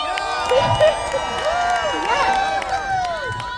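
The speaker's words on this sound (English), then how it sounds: "cheer for my mom" A protest crowd outside Capitol Hill in Washington, DC, cheering with high whoops, shouts and some clapping, lively and fairly close, rising and falling in short swells.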